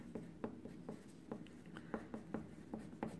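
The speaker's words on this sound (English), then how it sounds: "write your name and your code on the back of your paper" A pencil or pen scratches across paper in quick, rhythmic strokes, about a dozen soft taps and scrapes close by at low volume with no talking.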